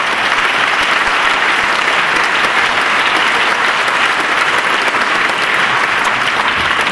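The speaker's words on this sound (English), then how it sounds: "Each of you deserve a real round of applause." Sustained, loud applause from a school audience cheering students with perfect attendance, steady dense clapping throughout with no pauses.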